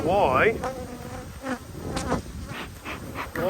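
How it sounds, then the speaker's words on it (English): Honey bees hum and buzz around an open beehive during a hive inspection, a dense close drone with individual bees whining past, loud and steady without speech. "Look at all those new bees."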